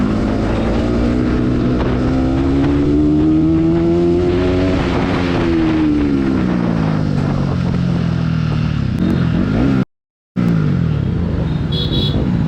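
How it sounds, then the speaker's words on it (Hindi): A loud Bajaj Pulsar NS200 motorcycle engine revs up and accelerates steadily on a city street, its pitch rising and falling as it roars close by, with a brief cut near the end. "इस गाड़ी को भगाने में जो साउंड आता है ना"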